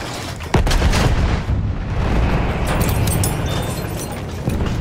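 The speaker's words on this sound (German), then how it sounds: "Das ist ein feindlicher Schuss!" Enemy gunfire in a Battlefield 1 conquest assault match, heard as a sharp shot followed by continuous loud rumbling battle noise with booms throughout.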